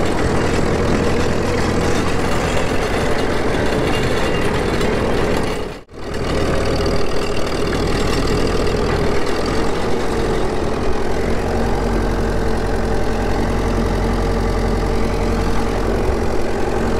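An old International TD-14 crawler tractor's engine runs steadily and loudly up close, a deep chugging drone with a brief sudden dip around the sixth second before resuming, no speech.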